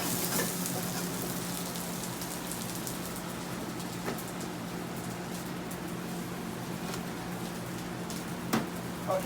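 Twelve ounces of stir-fried vegetables sizzle steadily in a hot pan with noodles for yakisoba, a dense even crackle with occasional clinks of stirring.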